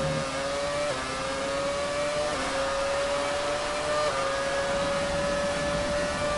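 A Formula 1 car engine in the racing video game F1 2017 drones at high revs, a steady whining tone that steps up through gear shifts, continuous and fairly loud with no talk over it.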